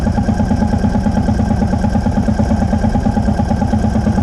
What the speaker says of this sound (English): when you fire it up and it kind of makes that pop, pop, pop, pop sound.